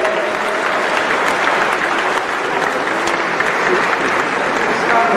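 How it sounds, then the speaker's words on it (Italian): An audience at a choral concert in Assisi applauds warmly, a dense, steady wash of clapping that holds at an even level for the whole stretch with faint crowd murmur. "un bel applauso"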